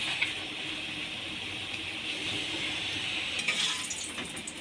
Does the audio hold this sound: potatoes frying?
yes